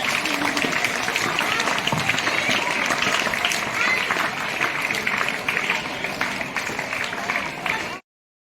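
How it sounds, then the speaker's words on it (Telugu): An audience at a school Teachers Day event applauds a Hindi teacher with continuous, dense clapping and crowd noise for about eight seconds, then cuts off abruptly. "अब मैं हमारे आदरणीय हिंदी शिक्षिका श्रीमती विजय लक्ष्मी का तालियों की गड़गड़ाहट से"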